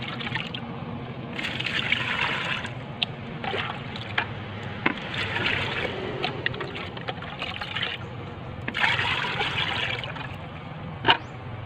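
Three liters of water slosh and swirl in a container as fertilizer mix for bougainvillea is stirred, in uneven bursts, with splashes and occasional knocks, fairly close and moderately quiet.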